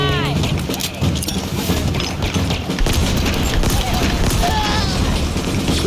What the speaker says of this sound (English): Just a grenade on that.